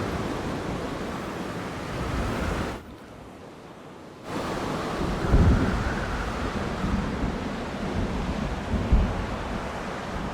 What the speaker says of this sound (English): Whoa, this is a crazy storm.